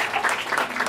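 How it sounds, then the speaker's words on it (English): A party crowd claps in a brief, close burst of applause, dense and even throughout. "I think Maggie deserves a round of applause for a great job they've done here."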